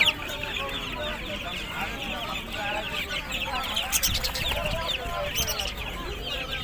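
Fourteen- to fifteen-day-old tiger breed chicks chirp and cluck constantly at a busy bird and pigeon market in Ashulia, a dense close chorus of high peeping with market voices mixed in.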